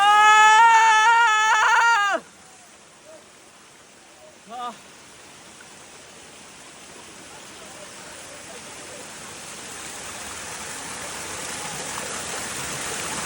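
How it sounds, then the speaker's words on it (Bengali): Small streams of a cold waterfall run over rocks in Sylhet, a soft broadband rush that slowly grows louder after a voice speaks at the start and briefly stops. "এখানে যে ছোট ছোট ঝর্ণার ধারা, এই যে দেখা যাচ্ছে, সবচেয়ে বেশি পানি পড়ে হচ্ছে এই জায়গা দিয়ে"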